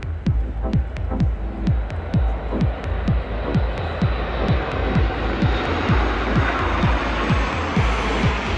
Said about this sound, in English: An incredible Etihad 787 and Al Fursan flyover at the 2023 Abu Dhabi